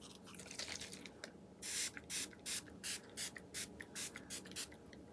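A Fix and Last matte makeup setting spray fires a rapid run of about eight short, crisp misting bursts in an even rhythm, close and clear against quiet room noise.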